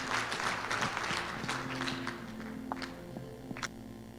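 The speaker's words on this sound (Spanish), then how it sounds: "¿Qué le parece si usted lo recibe con un fuerte aplauso" A church congregation claps in praise, dense broadband applause that is loudest at the start, thins out over the seconds, and leaves a few scattered claps over a sustained musical tone.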